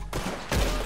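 Gunfire in the online Western game Red Dead Online, two sharp loud bursts about half a second apart, each with a short rumbling tail.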